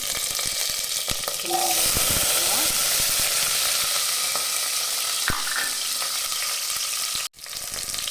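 Curry leaves dropped into hot oil with mustard and fennel seeds for a pea curry, a loud continuous sizzle and crackle with stirring scrapes, cut off abruptly near the end.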